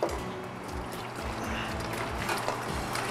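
Rich brown sauce is poured into a strainer fitted with a plunger in a college kitchen, making a soft, close, continuous trickling and splashing pour with no talking.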